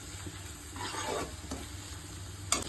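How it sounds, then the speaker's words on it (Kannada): Eggs and sambar shallots fry in a pan with salt and pepper, giving a close, continuous sizzle with soft stirring scrapes and a brief clatter near the end. "ಉಪ್ಪು ಮೆಣಸು ಹಾಕಿದ್ಮೇಲೆ ಚೆನ್ನಾಗಿ ಇದನ್ನು ಫ್ರೈ ಮಾಡ್ಕೋಬೇಕು"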